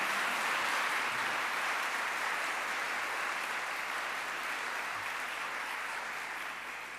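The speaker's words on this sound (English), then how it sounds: "giving Damien with the Work with Pride team and Clive and the Cork Pride team a massive round of applause" Sustained audience applause at a Pride diversity and inclusion conference, a dense, steady wash of many hands clapping that holds for several seconds and tapers slightly toward the end, with no voices over it.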